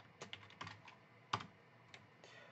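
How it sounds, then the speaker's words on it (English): Keys on a computer keyboard are struck in a short burst of light, close clicks with uneven rhythm, one sharper tap standing out, in a quiet room with no talking. "I'm just going to type help, and I'm going to type a mel command"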